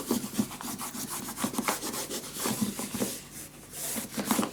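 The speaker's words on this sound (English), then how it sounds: "now I can burnish this down gentle with my bone folder to give these edges even a better touch" A bone folder rubbed back and forth along paper edges of a handmade scrapbook mini album, producing rapid rhythmic scraping strokes, close and steady with no voices.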